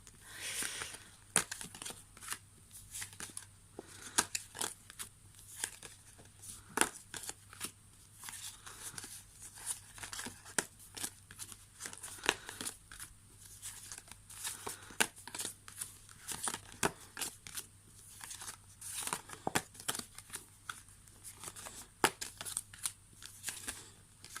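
Scissors cutting out cardboard game cards: a long run of quick, crisp snips and paper rustles, fairly faint and close, with no talking.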